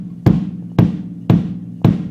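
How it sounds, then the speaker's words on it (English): Four evenly spaced thumps of a bass drum struck with a foot pedal, each a deep punchy hit about half a second apart with a short ring, played alone and close. "Bass drum, this big on the ground here, sounds like this. You actually hit it by using a pedal"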